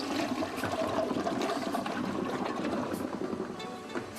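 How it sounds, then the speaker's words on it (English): An American Standard low-flush toilet flushes with a loud, steady rush of water that swirls and drains, carrying on evenly with no voices. "As this test video demonstrates, not all manufacturers' low-flush toilets are up to the challenge."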